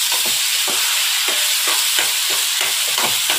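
Chutney masala being sautéed in a pan for rice and mixed dal appe, with a steady sizzle and repeated scraping stirs at a regular rhythm, close and fairly loud, with no voices.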